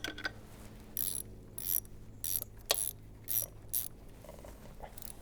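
A ratchet tightens a bolt on a Honda Accord power steering pump, a run of about seven quick clicking bursts at an uneven rhythm, close and fairly quiet over faint background hum.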